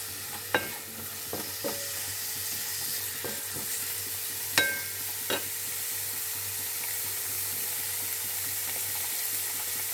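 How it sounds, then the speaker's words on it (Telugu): Green chillies, onion and curry leaves fry in a pan with tempering seeds for a raw banana pulusu, a constant sizzle broken by a few sharp spatula taps and clicks. "పచ్చిమిర్చి, ఉల్లిగడ్డ, కరివేపాకు వేసుకొని ఒక 5 మినిట్స్ వేయించుకోవాలి."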